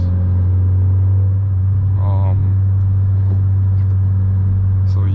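Honda Civic Si cruising on a foggy highway in traffic, heard from inside the cabin as a loud, steady low engine and road drone, with someone talking over it.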